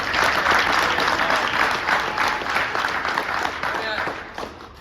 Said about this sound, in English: let's cheer for her back up